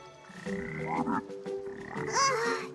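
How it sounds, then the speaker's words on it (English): Poison frogs croak in an animated fantasy dungeon, giving a few rough, warbling calls that rise and fall in two short bursts at moderate volume with no talk over them. "Poison frogs."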